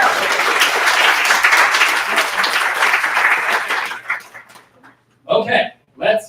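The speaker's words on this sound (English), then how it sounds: "So just a really quick round of applause for all the volunteers" Audience at a product operations meetup claps in a sustained round of applause for the volunteers, dense and loud for about four seconds, then tapering into scattered claps before brief bursts of voices.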